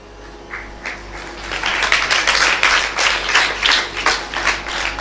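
An audience claps at a spiritual discourse, a scattered patter that swells into steady, moderately loud applause over a low background hum, with no voices over it.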